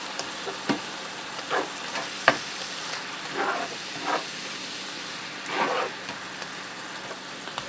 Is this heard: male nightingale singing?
no